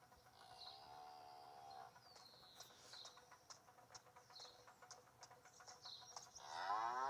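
Cows on a cattle farm in a car-themed video game give two drawn-out moos, one early and one at the end, over a quiet ambient bed with faint bird calls.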